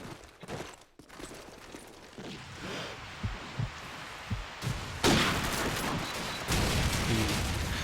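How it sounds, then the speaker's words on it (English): A grenade explodes in a Call of Duty 4 competitive match, a loud booming burst in a busy stretch of gunfire and game action, with little talk over it. "Bit of a grenade there."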